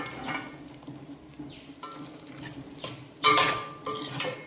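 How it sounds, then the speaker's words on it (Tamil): Mushrooms tumbling into an onion-tomato masala in a pan and stirred with a spoon, giving scattered scrapes and clinks against the metal, with one loud clatter near the end over a faint background hum. "இப்போ காளான் ஆட் பண்ணிக்கலாம்"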